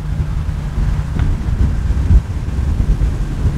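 Strong wind of about 20 miles an hour blowing across a golf course during a match, a steady low rumble buffeting the microphone throughout.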